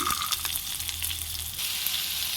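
Cumin, curry leaves, green chilli and peas frying in a pan for palak paneer khichdi, a steady close sizzle and crackle running throughout with no talk.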